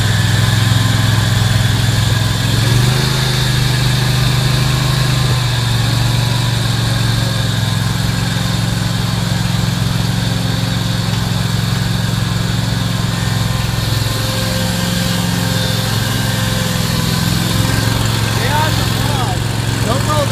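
Scag Tiger Cat II lawn mower engine running steadily after a cold start with the choke closed, a loud continuous close drone throughout; people talk faintly over it.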